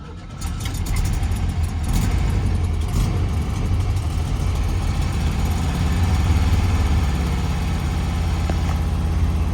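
A 1969 Volkswagen Beetle engine catches after about half a second and settles into a loud, steady, close-up idle with a deep low rumble that runs uninterrupted to the end, with no voices.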